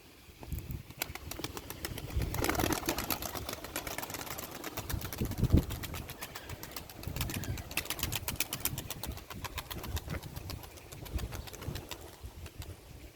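Wings flap in a rapid, fluttering burst as pigeons take off and circle at a pigeon market in Edirnekapı, Istanbul, set against a steady mechanical hum and outdoor background noise.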